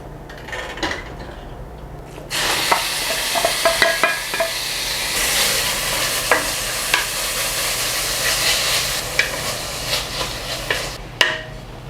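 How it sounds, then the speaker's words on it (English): Ground meat sizzles in oil in a pan over high heat, a loud, steady frying hiss that starts after a couple of seconds, with repeated scraping and clinking of a utensil stirring against the pan. "I'm going to cook the meat all the way, like there's no red"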